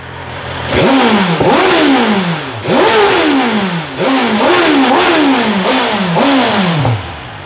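A BMW M1000R motorcycle in race mode, idling and then being blipped in a series of about six sharp throttle revs, each rising fast and falling back. The engine note is loud and close.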